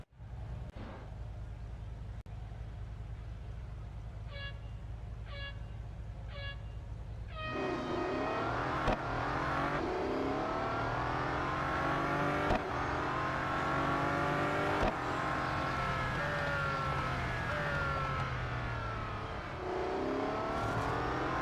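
Race car engines roar around Laguna Seca in Real Racing 3, a steady drone that swells into loud revving with rising and falling gear sweeps, several cars layered close together, with no talk.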